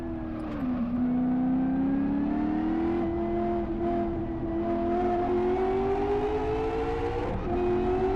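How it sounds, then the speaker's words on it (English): Racing car engine in the Live for Speed driving game, droning steadily at high revs with the pitch dipping at shifts and short throttle blips on downshifts, loud and close with no talking. "Nothing is more satisfying than doing the throttle blips on your own on downshifts."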